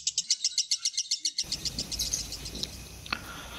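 Lovebirds give a rapid, evenly spaced run of about fifteen high chirps, then a hissy background with faint scattered chirps and one sharper call near the end.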